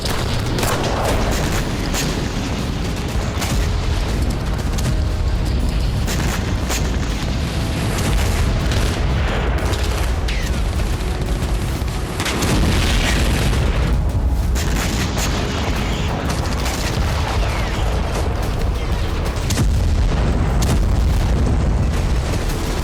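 A dense barrage of loud booms and blasts from drone and missile strikes on Crimea keeps going, heavy explosions overlapping in quick succession with little pause, close and forceful.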